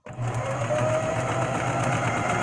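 A sewing machine runs at a steady pace stitching through fabric, its motor humming with a fast even mechanical whir close up and no talk.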